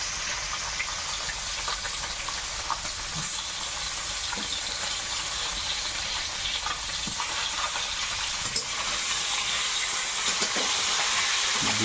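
Koi fish fry in oil in a wok with a loud continuous sizzle and hiss, punctuated by occasional faint scrapes and clinks.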